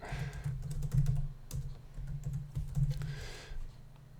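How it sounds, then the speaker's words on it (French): Rapid keystrokes on a computer keyboard as text is typed, a busy run of close, dry clicks in uneven bursts with brief pauses, heard alone. "Et on va taper notre texte."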